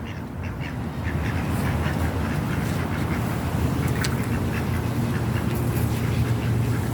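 Ducks quack repeatedly in a garden, their calls near and fairly loud over a steady outdoor background, with no talking.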